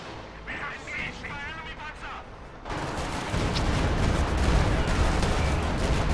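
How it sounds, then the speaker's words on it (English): Stuka dive bomber barrage in a World War II strategy video game: a rumbling roar of artillery-like explosions and gunfire builds midway and stays loud and continuous, with someone talking over the opening seconds. "another devastating Stuka barrage up here"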